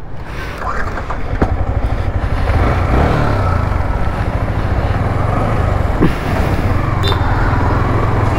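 A Yamaha R15M motorcycle rides off with a loud, close engine hum mixed with rushing wind noise, staying steady and strong throughout.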